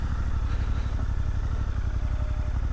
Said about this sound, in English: Lucky I'm on a motorbike.